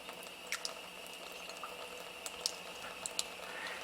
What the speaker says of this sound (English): We'll fill the tube up about half again and add our 3 or 4 drops